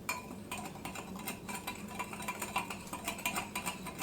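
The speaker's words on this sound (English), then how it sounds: "But I'm going to give that a little mix." Waffle batter made with salt is stirred in a bowl, producing a quick, rhythmic run of clinks and scrapes of utensil against the bowl, close and moderately loud.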